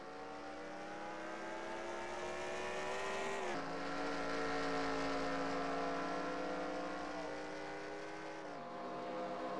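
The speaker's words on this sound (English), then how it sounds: "as himself and Mike Check are racing down the backstretch" Race cars roar around Homestead-Miami Speedway, a steady loud engine drone with pitch shifts as gears change, heard at a distance with no voices over it.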